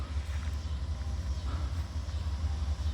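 Steady low rumble of a manifest freight train drawing closer near Abbeville, heavy rolling wagons droning continuously without pause, no talking.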